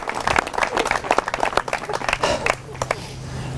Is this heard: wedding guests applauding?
yes